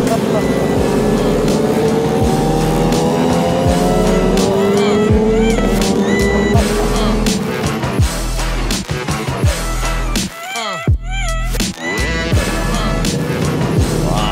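Fast motorcycles at a bike meet on a Pancasila Day Sunday morning ride, with loud revving engines rising and falling in pitch as bikes pull away nearby, under ongoing talk.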